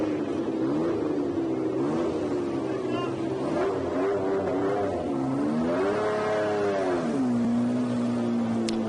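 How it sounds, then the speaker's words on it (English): Period racing car engines at the Montjuic circuit, a sustained loud engine drone with rising and falling pitch as cars pass and accelerate, with a voice briefly heard over it. "I just fell silent there to listen to a bit of period engine note."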